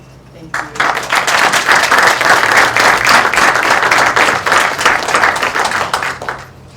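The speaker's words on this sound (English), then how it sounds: "Let's give them a nice round of applause" An evening event audience applauds a panel of six CEOs, a steady burst of clapping that starts abruptly, holds loud for several seconds, then tapers off.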